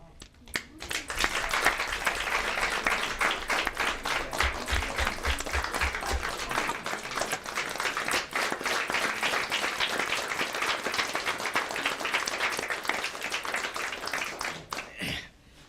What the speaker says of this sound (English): We're clapping because he's retiring.